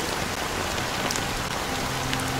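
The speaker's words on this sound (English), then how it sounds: "it's still raining." Steady rain in the video game Honkai: Star Rail, a dense, even hiss of drops on surfaces, loud and continuous with no break, a faint low tone entering near the end.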